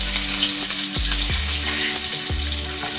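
Green chili sizzles and spits in hot oil with mustard and cumin seeds, a loud, continuous crackling fry with a few sharp pops, heard up close with no voices.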